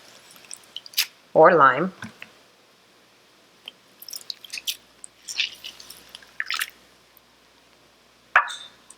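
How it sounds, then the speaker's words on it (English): A lemon is squeezed with a fork over a bowl, giving a wet squish followed by scattered drips and small splashes into the bowl. A person talks briefly. "So I'm gonna squeeze out my lemon in my bowl so I can filter out my seeds."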